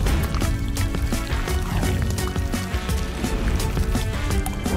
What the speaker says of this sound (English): Keep pouring.